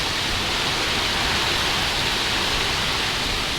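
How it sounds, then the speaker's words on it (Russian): A heavy rain downpour during a thunderstorm with strong winds hisses as a constant, loud, dense roar with no pauses and no voices. "Вот такой сильный сейчас ливень"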